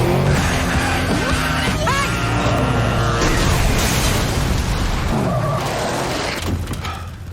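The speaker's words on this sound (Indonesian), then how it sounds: "mengendarai motor trail yang mengejar Jack, serta disambut dengan tembakan tank sehingga aksi kejar-kejaran pun terjadi." Loud, continuous rumbling tank cannon blasts and booming explosions with heavy low-end crashes, dense and chaotic throughout, easing slightly at the end.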